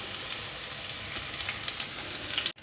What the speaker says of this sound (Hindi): पकोड़े हमारे माशाल्लाह से बहुत शानदार तरीके से फ्राई हो रहे हैं